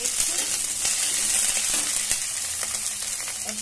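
Cauliflower and green chilies fry in a hot pan with a steady, close sizzle and hiss, broken by a few soft crackles and pops throughout.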